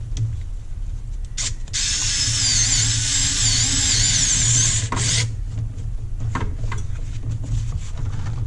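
A power tool runs up to tighten bolts in a garage: a loud shrill whirring burst of about three seconds, then quieter clicks and handling noises.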